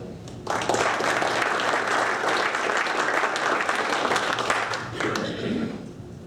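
An audience at a luncheon breaks into loud, sustained applause to welcome coach Stacy Collins, the clapping starting abruptly and holding steady for several seconds before tapering off.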